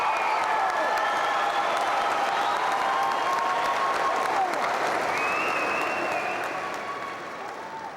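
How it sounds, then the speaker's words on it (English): An audience at a high school graduation ceremony applauds the graduating seniors with dense, sustained clapping and a few cheers, fading toward the end. "Would you please join me in giving this incredible group of graduating seniors a round of applause?"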